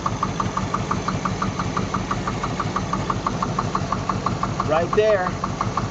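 A 350 engine in a Luhrs 28 boat idles with a steady, rapid knocking from valve number 6 on the head, loud and close, and a voice speaks briefly over it near the end.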